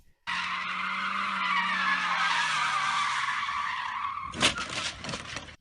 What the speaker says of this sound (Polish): Klasyczny ręczny hamulec, możemy driftować.